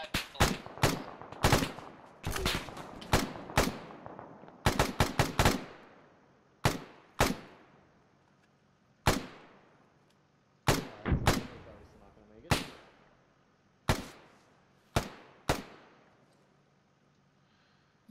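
Sharp, loud rifle shots ring out in an Arma 3 firefight. They come singly and in quick clusters, and each crack trails off into a fading echo between the spaced shots.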